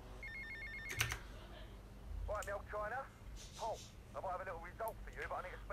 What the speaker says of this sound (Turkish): Paul'den telefon geldi.